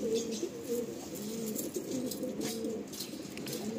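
A healthy, fairly long-bodied Madrasi pigeon coos nearby in low, rolling, repeated calls that continue steadily over faint background noise.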